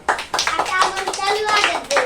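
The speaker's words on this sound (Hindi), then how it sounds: "ताली ताली ताली" Children clap their hands in quick, uneven bursts in a village setting, the sharp slaps mixed with their lively chanting and chatter throughout.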